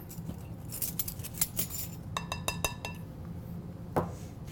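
Spoon stirring whole wheat muffin dry ingredients in a bowl, giving a quiet run of irregular clinks and scrapes against the bowl, with a brief cluster of quick taps and a final louder knock.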